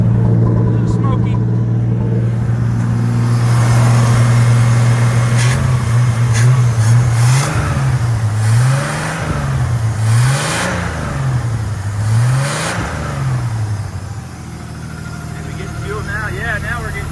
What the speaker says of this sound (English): I'm just gonna try to rev her a little bit.